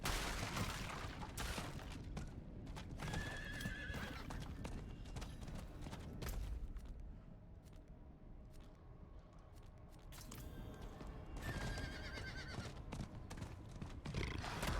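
In-game horses neigh twice, loud and near, over a busy stretch of rapid clip-clopping hooves and game noise.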